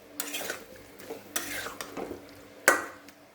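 A utensil stirs small potatoes with spice masala in a pan for aloo dum, several distinct scraping strokes with clinks against the pan over a quiet sizzle.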